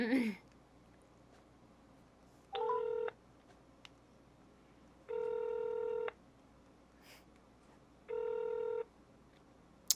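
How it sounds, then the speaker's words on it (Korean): A phone dials out with three evenly spaced, clear beeping tones, each lasting under a second, over a quiet room background, with a brief voice sound at the very start. "아 김댕님한테 전화해서 물어봐야겠다"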